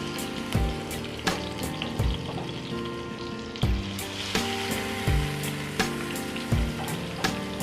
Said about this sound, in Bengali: মাছটা ভাজা পর্যন্ত আমরা অপেক্ষা করব